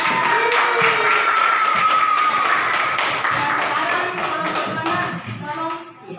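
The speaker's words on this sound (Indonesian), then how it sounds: "Masya Allah, tepuk tangan dulu." A classroom of students claps hands together in a room, with brisk, uneven clapping and a few voices chattering underneath, the applause thinning and trailing off toward the end.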